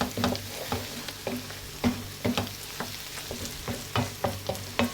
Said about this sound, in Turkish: iyice kavuracağız. Çünkü kavurmak çok önemli.